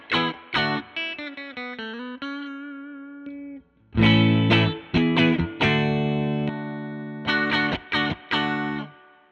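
Electric guitar, an offset Telecaster-style model, through a hollow, phasey tone from phase inversion, playing short plucked notes and ringing chords with sharp attacks and gaps between phrases.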